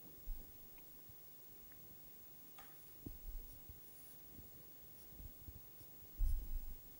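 A pen or marker scratches softly across a surface while curve outlines are sketched by hand for a data plotting lecture; the strokes are quiet and intermittent, with a few brief firmer scrapes and no talk.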